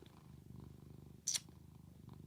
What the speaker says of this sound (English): I can hear purring.